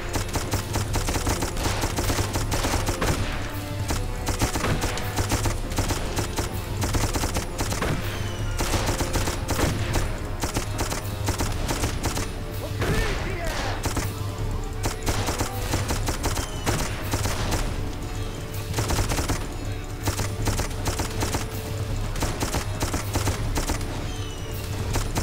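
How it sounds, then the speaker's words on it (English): Sustained loud automatic gunfire in the Darkest of Days video game, a dense barrage of shots with heavy firing layered throughout and no pauses, continuous for the whole stretch. "for a machine gun, you can't use it for very long"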